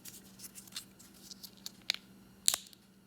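Crispy dehydrated potato slices are handled close up, giving quiet dry crackles and a couple of sharper crunchy snaps over faint room hiss.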